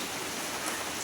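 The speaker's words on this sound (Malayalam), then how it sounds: "നാട്ടിൽ മഴയെ ആസ്വദിക്കണം." Steady rain falling outside a house in a Kerala village, a dense even hiss of drops on surfaces, continuous and fairly close with no voices.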